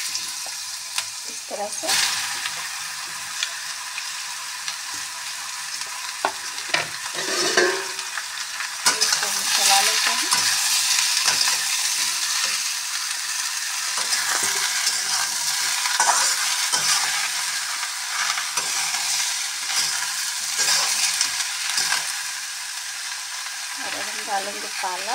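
Bottle gourd is stir-fried in a hot pan with a loud, continuous sizzle, broken by scraping and clattering of the spoon against the pan. Someone briefly speaks.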